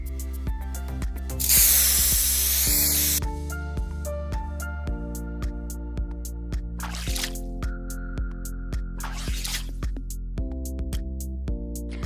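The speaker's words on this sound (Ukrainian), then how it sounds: "просто струсний балон і вперед до блискучих шин" Aerosol tire shine spray blasting onto car tires in a steady burst of hiss lasting about two seconds, followed by two shorter spray bursts later, all over steady background music.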